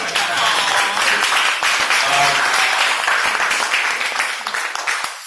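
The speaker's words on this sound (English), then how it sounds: "Can I please get a round of applause for the beautiful bride?" Wedding guests applaud the bride during a best man's speech, a loud, full burst of clapping from a sizable crowd that holds steady for several seconds before easing off.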